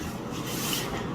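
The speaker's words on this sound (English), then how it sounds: "And you're going to scrape down the sides of your bowl." Spatula scraping down the sides of a mixing bowl of apple cinnamon crunch cake batter, a steady close rubbing rasp that carries on without a break.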